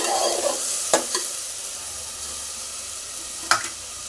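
Chicken curry masala fries in a pan with a soft, even sizzle, broken by two sharp spoon-scrape stirring knocks, close by and without talking.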